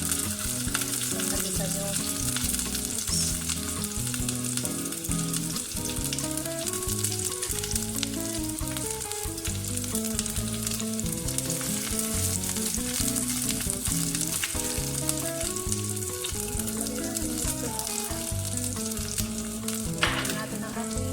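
Beef shank for Chinese-style braised beef fries in a pot with a steady, loud sizzle and crackle that runs without pause alongside music, and a voice speaks briefly.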